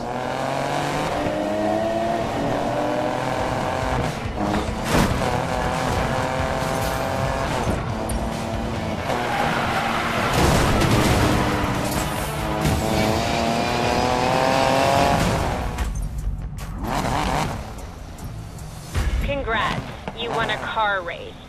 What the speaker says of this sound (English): Car race.